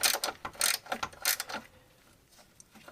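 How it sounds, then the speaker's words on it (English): Two 15 mm wrenches work a bolt loose on the front A-arm of a Polaris Sportsman, giving a few quick ratcheting clicks and metal scrapes up close that fade into quiet. "I got two 15 millimeter wrenches here. You got to hold one side to take off the other side."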